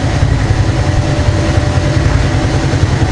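A KaYo Chinese quad idles steadily just after being started with no throttle, a loud, even low rumble with no voices over it.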